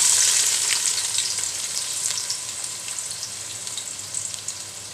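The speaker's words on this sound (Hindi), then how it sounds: "मैंने तेल चूल्हे में चढ़ा दिया गर्म होने के लिए। प्याज डाल देंगे।" Chopped onions sizzling in hot oil in a pan on the stove while cooking a fish curry with beans and bottle gourd, a steady, fairly loud crackling hiss with scattered pops that eases slightly over the seconds, with no voices.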